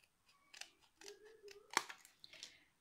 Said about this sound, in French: Ensuite, on prend la paire de ciseaux.